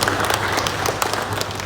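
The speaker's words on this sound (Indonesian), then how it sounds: "Kami berikan tepuk tangan Bang Raja Ihsan" Dense applause from a crowd, a steady wash of many hands clapping throughout, fairly loud and close.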